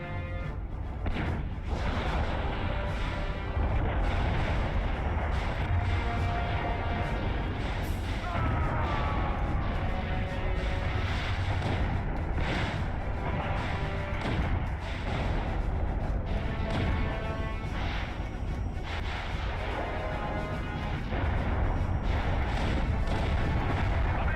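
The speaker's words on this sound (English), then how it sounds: "he blew up my submarine" In the video game Battle Stations a submarine is blown up amid continuous game combat, with dense booms, thuds and rumbling explosions layered over a steady loud wash of noise.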